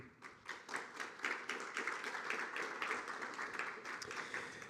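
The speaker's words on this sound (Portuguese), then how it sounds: "Para completar o painel, teremos também, para quem eu peço uma salva de palmas também, a Bruna Marengoni." Audience at a legal forum on mass litigation gives a round of applause, with individual claps clearly audible as a scattered, rhythmic patter that swells and continues, somewhat distant and moderate in level.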